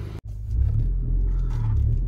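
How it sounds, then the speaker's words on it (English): A 10th-generation Honda Civic Si drives at night, its steady low engine and road rumble droning continuously after a brief dropout at the start, close and fairly loud with no talking. "go for a nighttime drive on the way home"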